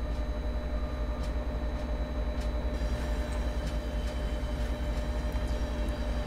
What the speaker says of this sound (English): So this locomotive is a diesel locomotive as opposed to electric, so it's a little bit more sluggish to get moving